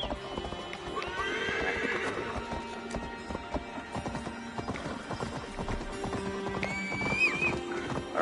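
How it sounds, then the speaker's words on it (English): A horse in Assassin's Creed Valhalla on PS5 gallops with a quick, continuous clip-clop of hooves. Near the end it lets out a high neigh over the running rhythm and a busy game soundscape. "Maybe I could use the horse now."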